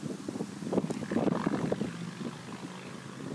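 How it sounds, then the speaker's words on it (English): Steady wind blows outdoors around a Savonius vertical axis wind turbine, a continuous rushing roar with gusty swells and microphone buffeting, fairly loud and close. "So right now we got some pretty decent wind"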